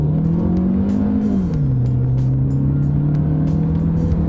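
A 2023 Jetour Dashing crossover with a turbo engine launching hard from a stop, its engine note rising then dipping briefly before holding a steady loud drone, heard from inside the cabin.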